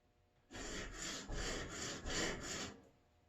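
A skew paring chisel is ground on a flat sharpening plate in long, steady strokes, giving a harsh, close scraping rasp that rises and falls about five times in quick succession before stopping.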